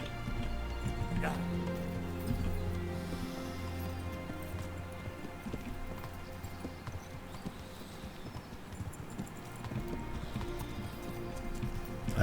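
Horse hooves gallop in a steady clip-clop rhythm in the Kingdom Come: Deliverance video game, running continuously at close range beneath a low rumble of ambient noise.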